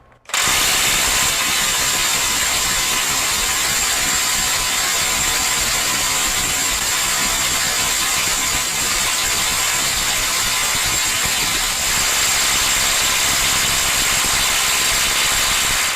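A RIDGID 18V right angle impact wrench hammers steadily on a tight nut in auto mode, a loud, continuous, dense rattling buzz that runs for the whole stretch without pause and with no voices.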